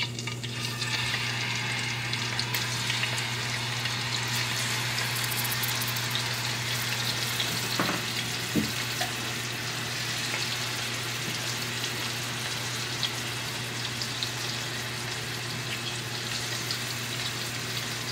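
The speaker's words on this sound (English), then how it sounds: "Now we'll add our shrimp to the pot." Shrimp frying in a pot for shrimp fried rice hiss in a steady sizzle under a constant low hum, with a couple of faint knocks partway through.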